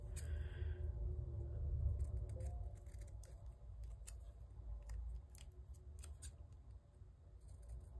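Scissors trim paper for a planner layout in a run of soft, crisp snips and small rustles, close and fairly quiet, with no talking.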